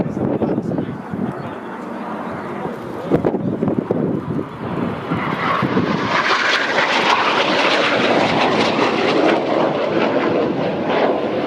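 Red Arrows display jets flying the Cyclone manoeuvre at an airshow, a broad continuous roar that swells and brightens into a sustained rushing jet noise, with faint commentary underneath early on.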